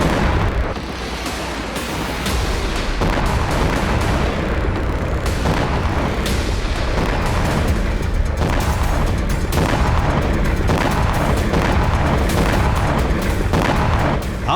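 Soviet-made rocket launcher firing rockets in war footage, a loud, dense run of booming blasts and rumbling thuds that continues without pause.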